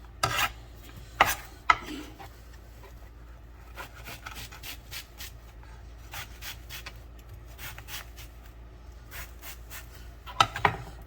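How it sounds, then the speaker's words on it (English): Onions sweating in a little olive oil in a warm pot make a faint, steady soft sizzle and rasp, broken by a few sharper clinks and stirring scrapes near the start and end, with no talk. "We're going to use a little olive oil and we're going to sweat these onions."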